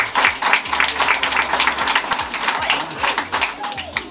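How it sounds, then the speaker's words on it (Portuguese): A church congregation at a worship service applauding Jesus, with scattered claps under a voice speaking and low musical tones, the clapping loud and close in uneven bursts. "Vamos aplaudir Jesus?"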